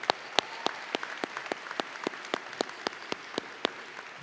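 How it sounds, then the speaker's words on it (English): Applause from a large graduation audience of nearly 4,000 at a high school commencement in an indoor hall, a steady wash of many hands clapping with sharp, regularly spaced claps standing out near the microphone. "Can we give them all a round of applause that are here to support you today?"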